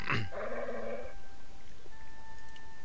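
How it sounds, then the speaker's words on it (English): A guard dog growls in the video game Broken Sword II, on a desolate dockside in Marseille at dawn: a sharp opening yelp, then a harsh, close snarl lasting about a second, followed by faint, steady background tones. "He's not a very happy dog."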